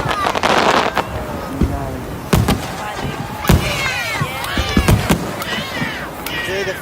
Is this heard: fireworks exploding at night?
yes